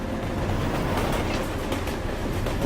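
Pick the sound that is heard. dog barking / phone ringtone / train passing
train passing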